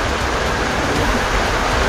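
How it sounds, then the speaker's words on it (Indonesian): Water pours steadily from a rock face in a tropical forest, a loud, dense, continuous rushing close by. "Dan ini dia ngeluarin air teman-teman tuh"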